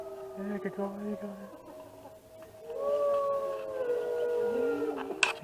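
Wolves at a wolf and wildlife center in Colorado howl together in long, rising and falling overlapping tones, a chorus swelling and layering over several seconds with faint background noise.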